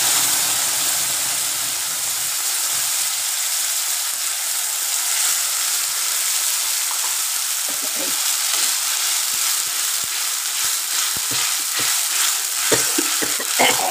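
Tomato frying in a pan for a paneer masala curry, a loud, steady sizzle and hiss that runs throughout, with occasional soft pops and stirring scrapes.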